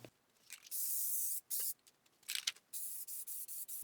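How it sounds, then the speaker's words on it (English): Bursts of hissing spray paint from an aerosol can, several short and long blasts in quick succession, close and fairly quiet. "I had to do multiple coats of the spray paint to cover up the sheen"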